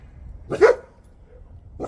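A dog barks once at close range, a short sharp burst over a quiet kitchen background while steak and potatoes are being plated on a Blackstone griddle.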